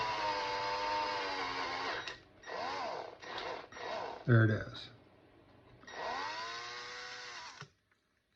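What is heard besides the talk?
drill drilling out a rivet head on a car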